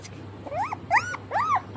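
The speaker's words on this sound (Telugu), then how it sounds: "మా ఇంటికి చిన్న కుక్క పిల్ల వచ్చింది ఫ్రెండ్స్." Small puppy whimpering in a home: three rising and falling whines, fairly close and clear, over low background hum.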